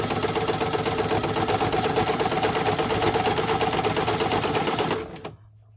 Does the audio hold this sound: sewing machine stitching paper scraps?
yes